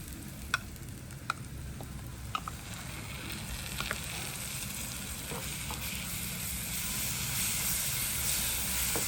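Onions and green chillies frying in oil for an egg curry, a continuous hiss and sizzle that swells slightly near the end, with a few faint scattered taps.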